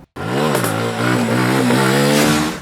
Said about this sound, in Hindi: FZ का एग्जॉस्ट नोट काफ़ी स्मूथ है